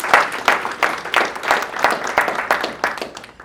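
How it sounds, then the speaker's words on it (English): Audience applause for candidates at a 2014 alderman forum in Hendersonville, Tennessee: a dense, steady clapping crowd in a hall, moderately loud and continuous throughout, with no talking over it. "So now you may give them a round of applause."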